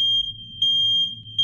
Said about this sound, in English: my fire alarm just went off